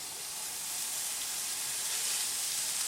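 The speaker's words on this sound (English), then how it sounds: "I've got my skillet just warming through because we're going to sear this off" Chunks of meat for rendang sear in a hot skillet, giving a steady, close sizzle and hiss that swells slightly and holds without letup.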